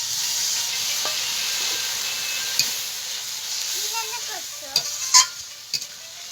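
Water from a spice bowl hits a hot pan with a strong, steady sizzle and hiss, followed by occasional scraping and clinking as the mixture is stirred, close and loud throughout.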